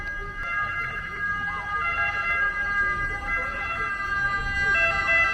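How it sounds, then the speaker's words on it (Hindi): An ambulance siren wails continuously at moderate distance over low street traffic rumble near the Leaning Tower of Pisa, Italy, its tone cycling steadily. "एम्बुलेंस आ गई, वेट करते हैं।"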